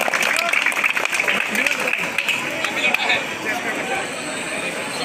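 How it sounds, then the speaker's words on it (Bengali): A crowd at a football tournament final prize ceremony in Kalihati, Tangail claps, with a dense, steady patter of hands mixed with crowd noise and voices through the whole stretch. "তালি হোক একটা জোরে, ধন্যবাদ।"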